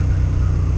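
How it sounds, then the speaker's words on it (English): A truck's exhaust drones low and steady beside a motorcycle rider wearing a Sena SMH5 headset, a dense continuous engine rumble filling the short moment with no voices. "this truck and his exhaust is killing me"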